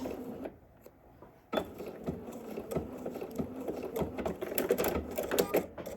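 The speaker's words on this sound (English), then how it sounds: "now we're gonna sew down here and we're gonna stop" A sewing machine quietly stitches a sleeve seam on a Cashmerette Canton garment, giving a soft, close run of rapid stitching that starts after a short lull and patters on unevenly.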